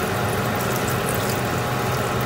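Water is shaken through dried fish to separate out sand while cooking Sierra Leone potato leaf, giving a dense, continuous rushing, splashing wash of liquid with no talking.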